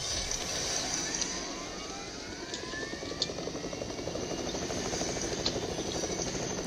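A helicopter in the Fortnite video game drones steadily overhead, a dense continuous rotor and engine rumble that holds at an even, fairly loud level throughout with no talking.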